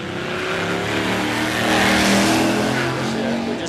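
A left-hand-drive car, likely a Dodge, launches off the start line at a no-prep drag strip at Warwick Dragway in Australia, its engine roaring loud and close as the revs climb and then hold.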